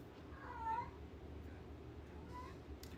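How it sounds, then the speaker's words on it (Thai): A cat gives a short meow, then a second fainter one a moment later, over a low steady background hum. "เสียงน้องแมวใช่"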